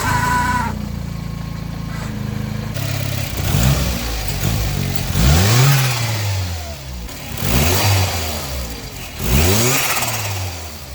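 A turbocharged Nissan Micra engine revs up and down repeatedly in surges with no load, a turbo whine rising over the roar, close by and loud, no talking.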